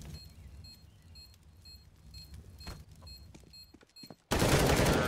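Rapid clicking rifle fire crackles in a Counter-Strike: Global Offensive match, scattered shots sounding thin and distant before a sudden loud, dense burst at the very end.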